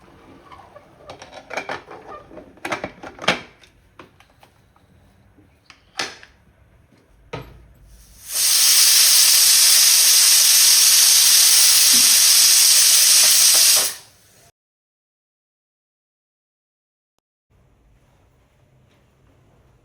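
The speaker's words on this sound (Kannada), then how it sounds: "ಕುಕ್ಕರ್ ಮುಚ್ಚಿ ಒಂದು 7-8 ವಿಸಿಲ್ ಹಾಕಬೇಕು" A pressure cooker of moong dal khichdi lets out one loud, steady steam whistle lasting several seconds, then cuts off abruptly into quiet, with faint kitchen clatter before it.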